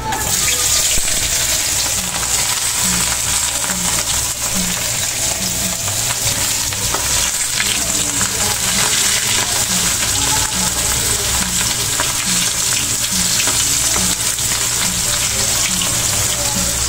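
Dried fish (tuyo) frying in a pan, a dense, steady crackle and sizzle of hot oil that continues without pause, close up and with no talk.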